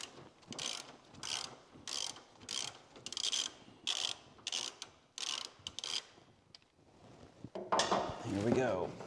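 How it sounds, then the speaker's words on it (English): A 1/4-inch hex driver turning a radiator drain plug on a Dodge Viper, heard as a steady series of close ratcheting clicks in regular bursts, followed by a louder rushing spill at the end. "I'm using a 1/4-inch hex driver here"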